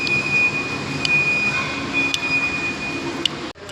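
Steady rumble and hiss of a Mumbai Metro train in motion, heard from inside the carriage, with a few brief high squeaks from the wheels or rails and an abrupt drop near the end.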